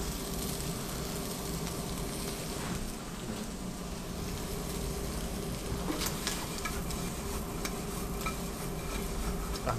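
Chicken livers stirred with garlic and chopped vegetables in a pan: a steady close sizzle and frying crackle with scraping of the stirring spoon throughout.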